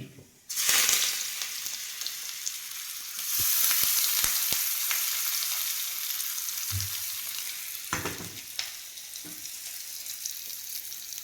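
Mustard seeds, dried chillies and curry leaves fry in hot oil for a coconut chutney, making a loud crackling sizzle that flares when they go in and keeps going steadily, close, with a few stirring clinks and no talking.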